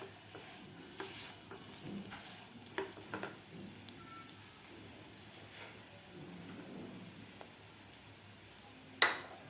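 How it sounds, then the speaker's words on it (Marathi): A dry fruit ladoo mixture fries in ghee, a quiet steady sizzle with scattered scraping stirs and clinks of a utensil against the pan. "व्यवस्थित आपल्याला हे थोडंसं असं दाबून याला व्यवस्थित तुपामध्ये व्यवस्थित फ्राय करायचं आहे."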